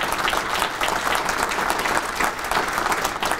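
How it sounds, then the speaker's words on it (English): A conference audience at a business session applauds its sponsor, a law firm, with dense, steady clapping that stays loud and even from start to finish, with no talk over it. "Let's give them a round of applause."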